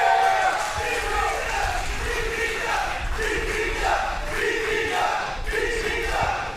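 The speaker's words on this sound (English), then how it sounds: "y'all going to cheer your asses off" A live pro wrestling crowd shouts and yells in a dense, continuous roar of many voices, loud and close, with a few higher cries standing out throughout.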